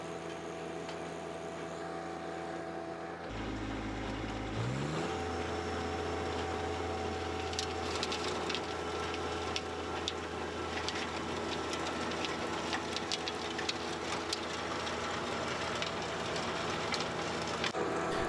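A John Deere 1025R compact tractor drives a King Kutter tiller through garden soil; after a brief shift, a steady mechanical hum and whir of the engine and rotating tines carries on, moderately distant and fairly faint.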